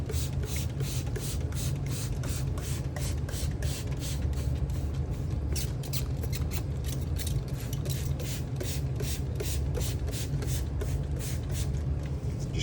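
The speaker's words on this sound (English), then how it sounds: "I would even spray this entire bottle." A hand spray bottle misting an emersed Amazon sword plant setup fires rapid, regular short hissing bursts, dozens in a row, close and steady over a low background hum.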